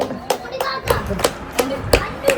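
Family members clap their hands at home in a short run of sharp, evenly spaced claps, roughly six of them, heard close by alongside talk and a voice.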